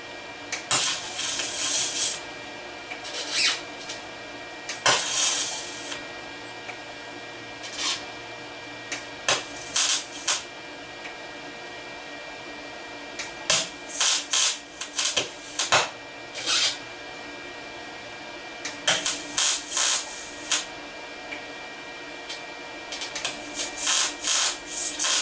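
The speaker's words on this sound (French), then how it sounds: "Donc maintenant, avec des points de soudure, je vais poinçonner ici et je pourrai souder cette pièce-là après à l'extérieur plus tranquillement." Spot welding on a steel tube during restoration work on a Citroën Traction 11/15 rack-and-pinion steering part: short bursts of crackling, hissing weld noise come in irregular clusters with quiet gaps between them, close and fairly loud, with no talking.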